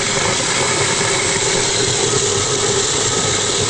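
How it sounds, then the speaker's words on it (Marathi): Loud, continuous mechanical drone and whir of a dal mill machine processing pigeon peas, a steady close roar with no pauses and no talking. "बरणी चालू आहे ना आपलं डाळ बनवायचं चालू आहे"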